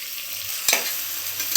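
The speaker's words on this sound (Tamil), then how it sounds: "நல்லா கோல்டன் கலரில் வதங்கணும் வெங்காயம் நல்லா வதங்கிடுச்சு" Onions and green chillies sautéing in a pan with cardamom and bay leaf for chicken biryani: a brief, soft sizzle broken by one sharp scrape of a spatula partway through.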